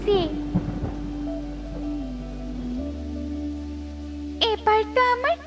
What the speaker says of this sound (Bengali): এত রাতে আবার বৃষ্টি শুরু হলো?